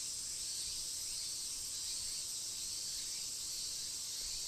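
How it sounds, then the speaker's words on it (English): Cicadas drone in a continuous, loud, shrill buzz in the Tsukihime visual novel, a steady high-pitched wall of insect noise holding unbroken throughout with no voices. "The air shimmers with heat, and the keening of cicadas eats at me. The cries of the cicadas."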